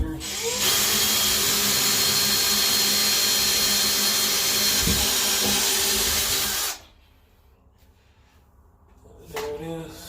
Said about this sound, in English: So I'm gonna take the bit and go as high as I can with the drill comfortably